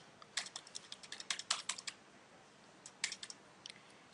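Keys pressed on a computer keyboard while working in Marg ERP billing software, with quick bursts of crisp, close clicks and a short pause between groups.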